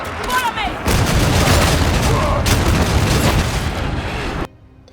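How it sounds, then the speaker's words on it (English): Heavy bolter fire from Warhammer 40,000: Darktide, a dense run of booming shots rolling loud and continuous for several seconds before cutting off abruptly. "The bolter is sufficiently brutal, with it being slow to draw and reload, but devastating when used properly into the right target."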